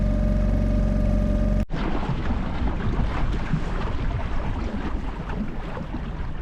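Sailboat beating against the wind off Scotland with strong tide: after a sharp cut, steady rushing wind and water wash buffet the microphone loudly and continuously, no talk.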